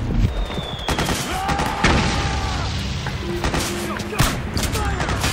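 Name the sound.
gunfire in the video game Metal Gear Solid 4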